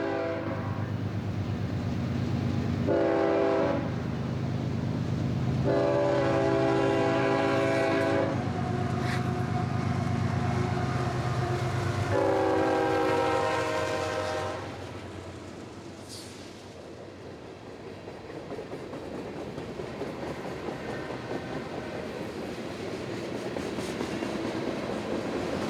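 Trains pass through Chesterton, among them Amtrak and the Norfolk Southern Conrail heritage unit, with loud horn blasts early on over a heavy rolling rumble that fades to a softer, steady clatter of cars.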